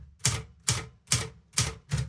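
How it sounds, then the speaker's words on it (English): A manual typewriter being used to retype words in bold: five sharp, evenly spaced keystroke clacks, close and distinct, each with a brief metallic ring, with no voices. "to both bold and bold underline on the typewriter"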